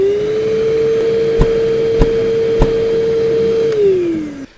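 A Bosch GAS 35 L AFC dust extractor runs with a loud, steady motor whine close by, while three sharp evenly spaced knocks from its automatic filter back-flush cut through before the motor pitch drops as it winds down.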